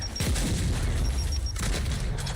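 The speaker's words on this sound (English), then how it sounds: "Fire in the hole! Frag out! Throwing frag!" Frag grenade explosions and a burst of gunfire ring out in a video game firefight, with two loud booming blasts and rolling rumble amid ongoing combat noise.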